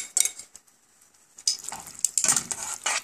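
Beef stirred with onions in a saucepan for a Yoshinoya-style gyudon gives bursts of sizzling and utensil scraping, broken by a brief quiet gap before the stirring resumes more busily.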